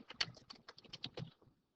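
Quick keystrokes patter on a computer keyboard while entering Excel spreadsheet labels, about a dozen soft close clicks in a fast irregular burst.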